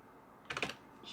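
Quiet, quick tapping of a few keys on a computer keyboard, a brief cluster of keystrokes with no talking.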